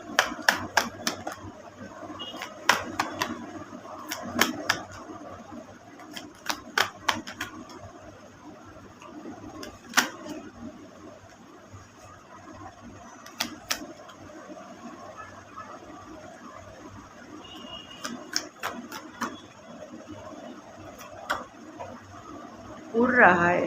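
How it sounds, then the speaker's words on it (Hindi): Tarot cards being shuffled by hand, giving sharp, quick riffling bursts in irregular clusters with quiet gaps between, close and fairly soft. "let's take a full shuffle and see what are the cards that are coming"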